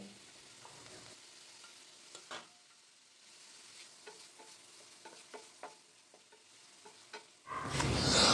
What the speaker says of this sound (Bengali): আলুগুলো দিয়ে নাড়াচাড়া করবার পরে জল ঢেলে দিলাম